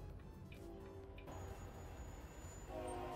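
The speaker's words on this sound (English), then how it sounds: "Is it a train?" A train in American Truck Simulator, heard faintly in the distance as a low rumble with a thin horn tone drifting over steady background noise.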